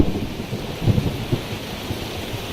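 Rumbling thunder rolls through a steady rainstorm in Melaka, a low continuous roar with a few heavier swells, heard close by without any voices.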